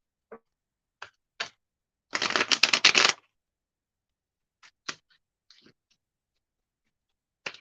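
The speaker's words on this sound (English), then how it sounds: "let's use the Light Seers Tarot" Light Seers Tarot cards riffle in one dense shuffle lasting about a second, framed by scattered sharp taps and card clicks, with quiet gaps between.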